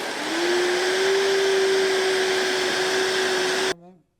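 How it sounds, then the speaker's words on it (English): A blender whirs through warm sea moss gel with organic blue agave, a loud, steady motor whine held for several seconds before it cuts off abruptly. "Turn the blender on."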